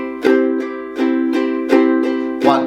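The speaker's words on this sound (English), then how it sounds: "if I was to do a simple up and down strum without swing in straight time" A ukulele strummed in an even, straight down-and-up rhythm, four bright chord strums ringing clearly and close with no voices.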